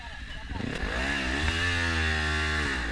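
A motorcycle carrying two men buzzes up and holds a steady, rising drone, close and fairly loud, its pitch wavering slightly, in São Paulo's South Zone at 7 a.m.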